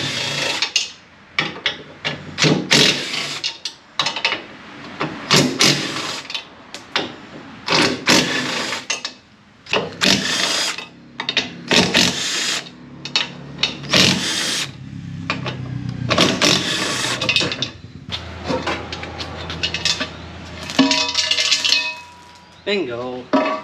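Bolts being removed from the bash bar of a Nissan 350z with tools: a run of intermittent mechanical whirring and ratcheting bursts with clanks, close and fairly loud, broken by short pauses across the whole stretch.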